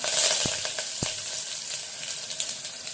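Cumin, mustard seeds, ginger-garlic paste and curry leaves sizzle steadily in hot oil, a bright continuous crackle with a couple of sharp pops near the start.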